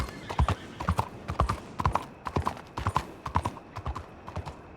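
Horse hooves clip-clop at a steady walking rhythm in Red Dead Redemption 2, close and clear, with a voice imitating the clopping.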